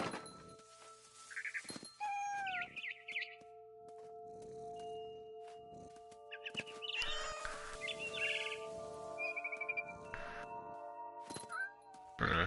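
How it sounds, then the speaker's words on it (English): Birdsong from the video game What Remains of Edith Finch: scattered chirps and whistled tweets rise over a steady ambient game hum, moderately loud and spread across the scene with occasional soft thumps. "heard chirping outside my window"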